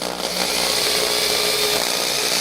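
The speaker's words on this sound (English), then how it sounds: "Drilling that through." Power drill boring at an angle through a part of an FMS Super Scorpion 90mm 8S RC jet during an upgrade, a loud, close, continuous high-pitched whine held steady throughout.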